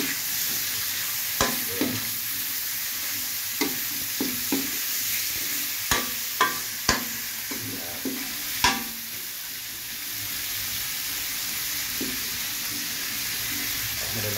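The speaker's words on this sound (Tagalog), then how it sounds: "Tapos saka natin gigisa yung bawang." Garlic sautéing in a pan beside shrimp while laing is cooked, a steady sizzle broken by sharp spoon clacks and stirring knocks against the pan, close up, with a brief spoken word.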